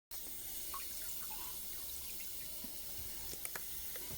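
Tap water runs steadily and close by, filling a baby's bath with a constant hiss and gurgle.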